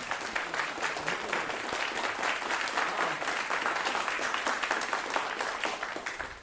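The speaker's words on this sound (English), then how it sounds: "A round of applause for Eskil Steinberg Hall" A conference audience applauds a speaker being introduced on stage, with dense, sustained clapping throughout at a moderate distance and no talk over it.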